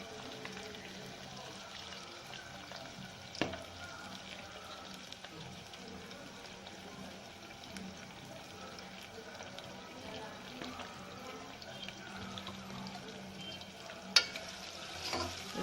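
Onions with curry leaves and coriander frying lightly in a pan, a faint, even sizzle throughout with a few small clicks of a spoon, no talk.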